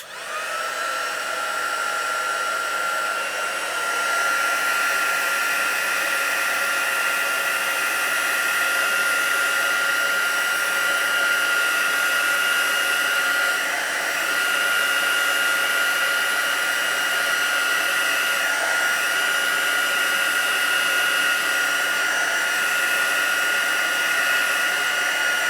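A handheld dryer blows hot air over wet, spritzed glimmer paper, making a steady, close, high-pitched whirring roar that runs unbroken and even for the whole stretch.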